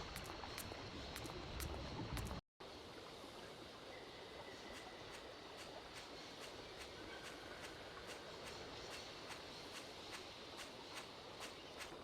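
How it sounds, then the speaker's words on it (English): Train running in the video game Syberia, a steady rumbling roll with regular clicking beats from the wheels, continuous and even throughout apart from a brief dropout near the start. "And we'll go up on our train."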